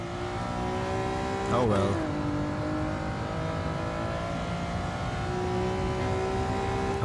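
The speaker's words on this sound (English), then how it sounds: "I'm gonna have to downshift here." Honda NSX-R engine on the Nordschleife, loud and close from inside the car, droning steadily with a sharp blip and pitch swoop as it downshifts, then carrying on at high revs; someone speaks briefly over it.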